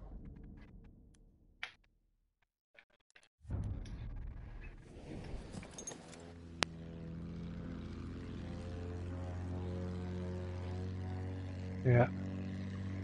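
A propeller airplane drones steadily in a PS4 combat flight game, its engine tone holding level for most of the clip after some quieter game sounds, with a brief click near the end.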